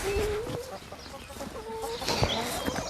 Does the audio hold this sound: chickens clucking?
yes